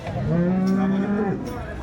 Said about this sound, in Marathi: गाय आपण फिरून दाखवणार आहे